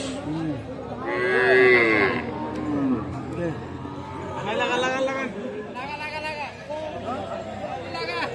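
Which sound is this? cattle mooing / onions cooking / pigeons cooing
cattle mooing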